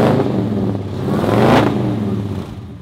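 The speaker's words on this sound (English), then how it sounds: "So you want that exhaust sound, everything else. This sounds exactly like it does on gasoline." The exhaust of a supercharged 1948 Chevrolet pickup running on hydrogen revs up close and loud, rising to a peak midway before easing back down, with no talking.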